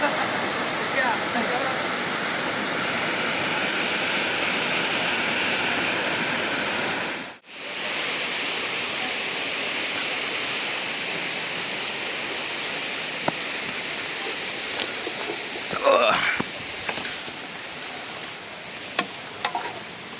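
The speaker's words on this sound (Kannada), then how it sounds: "ಅಲ್ಲಿ ಈ ಥರ ಪುಟಾಣಿ ವಾಟರ್ ಫಾಲ್ಸ್ ಕಾಣ್ತು." A small forest waterfall near Kanakapura pours in a steady, continuous rush of broadband water noise, briefly cut by a momentary dropout, with faint clicks and handling sounds toward the end.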